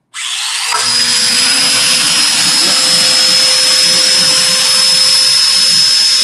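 A domino joiner power tool spins up abruptly and runs at a loud, steady high-pitched whine with a constant motor drone, its bit vibrating back and forth, close by and uninterrupted.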